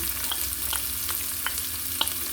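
Onion and garlic fry in a pan for beef rice porridge, a steady close sizzle punctuated by several light scraping stirs of a utensil, with no talk.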